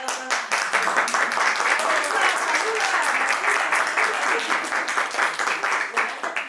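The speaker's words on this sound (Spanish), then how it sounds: "Fuerte aplauso para" Sustained audience applause at an academic panel on border technology, a dense wash of many hands clapping at steady loudness throughout, with a few faint voices mixed in.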